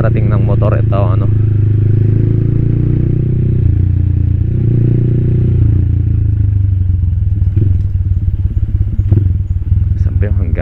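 Motorcycle fitted with high-rise handlebars on a test ride, its engine droning low and steady throughout, close and loud, with some clatter and wind noise and someone talking over it.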